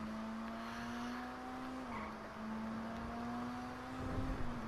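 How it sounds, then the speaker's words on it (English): The Pfister 911 sports car in GTA 5 Online drones at a steady pitch with a loud, throaty exhaust tone, shifting slightly as revs dip and rise. "You can just hear the engine note. It's just loud and clear, because the exhaust is right there."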